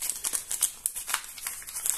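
Crinkling plastic wrapper of a collectible sticker packet being opened by hand, a series of close, irregular crackles with no speech over it.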